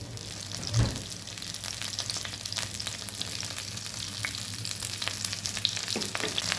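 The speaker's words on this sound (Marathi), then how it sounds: "मीडियम गॅसवर दोन्ही बाजूने फ्राय करून घेऊया." Chicken leg pieces frying in a pan over medium heat, a continuous crackling sizzle with small pops and a thump near the start, steady and close.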